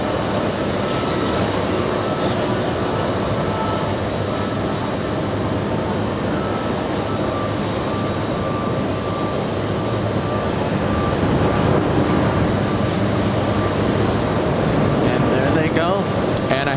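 An Ilyushin IL-96 jet landing during UN week 2023, a steady broadband engine roar heard from a distance that swells slightly near the end, with people talking over it.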